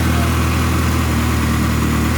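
A Ferrari 360 with a fuel leak running steadily after a little throttle, its engine droning loud and close with an even, unbroken rumble and no talk.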